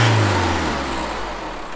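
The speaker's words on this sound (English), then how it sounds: "Finally, start the engine and let it run for a few minutes" Isuzu 4JJ1-TCX turbo diesel engine in a D-Max or MU-X runs after a fuel filter replacement, a steady, loud, close low-pitched idle rumble that eases slightly after a brief initial rev.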